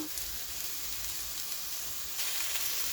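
Radish chutney ingredients sautéing in a pan, a soft continuous sizzle and hiss of frying, faint and steady throughout with no talking.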